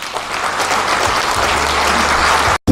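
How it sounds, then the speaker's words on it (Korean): An audience claps at a Korean book launch event for a National Assembly member, a dense, loud, continuous round of applause that cuts off sharply near the end. "큰 박수 부탁드립니다."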